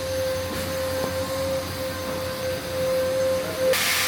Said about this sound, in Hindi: और अभी चल रहा है उसके अंदर वैक्यूम।